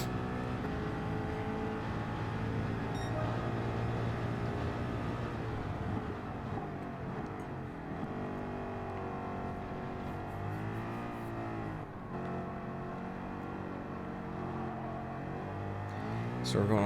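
A race car engine in a Gran Turismo 7 daily race drones loud and steady, its pitch climbing and falling through gear changes as the car eases through slow corners.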